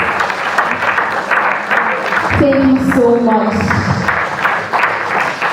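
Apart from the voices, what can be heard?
audience applauding at an event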